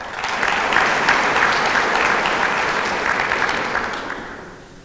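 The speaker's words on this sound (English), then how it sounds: "Have you had enough clapping yet?" Continuous clapping from an audience at a town's State of the Town civic event, steady and full for several seconds before gradually fading.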